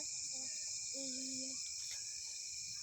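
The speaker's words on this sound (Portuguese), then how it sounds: "A zoadinha dos grilos." Crickets chirp steadily at night beside a São João bonfire, a high, continuous trilling that goes on throughout, with a few faint brief tones partway through and no clear speech.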